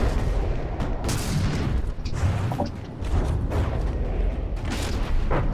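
Deck guns on a ship in a naval video game fire repeatedly in heavy, booming reports with metallic clanks. The shots crowd close together over a constant rumbling background, with a brief lull partway through.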